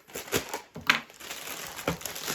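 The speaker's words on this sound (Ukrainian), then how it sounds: "Бачу скотч, відкриваю скотч." Packing tape crackles and crinkles in short bursts as it is pulled and peeled, close up with no talking.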